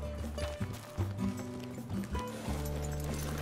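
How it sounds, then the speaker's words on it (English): Hooves of a horse walking at a slow, steady clip-clop on a home stable yard, close by and alone with no talk. "So I'll just pop her back in and get the next horse, who is Dallas."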